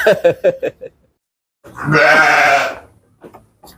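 Sheep and goats bleat in a livestock pen at a dairy and breeding farm: a quick run of short, close bleats, a pause, then one long, loud wavering bleat followed by faint calls.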